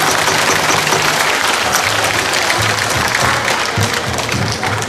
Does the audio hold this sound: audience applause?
yes